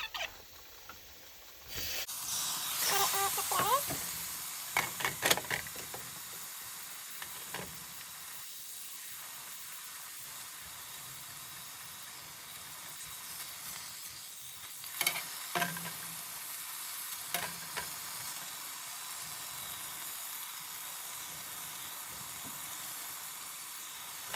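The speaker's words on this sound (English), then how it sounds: "I'm going to add the shrimp in right now." Shrimp frying in a pan while a farro salad is being cooked, a steady sizzle with a few bursts of stirring and utensil clatter early on, then a quieter continuous hiss with occasional scrapes.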